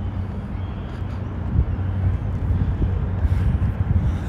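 Wind buffets the microphone with a steady, low rumbling roar that never lets up; no voices are heard.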